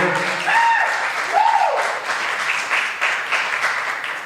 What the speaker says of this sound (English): let's give a round of applause to Mr. Ski himself for putting on this level